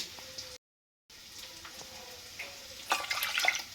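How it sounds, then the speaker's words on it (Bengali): Water is poured from a bowl into a pot for cooking semolina upma. Faint kitchen background leads into a short, close splashing pour near the end. No talk. "দু বাটি দিলাম আরও হাফ বাটি জল আমি দিলাম"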